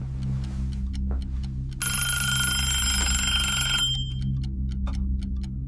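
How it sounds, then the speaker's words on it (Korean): A shrill mobile phone ring cuts in for about two seconds over a slow, steady ticking pendulum clock, then stops, leaving the ticking alone. "고요를 찢는 날카로운 벨소리."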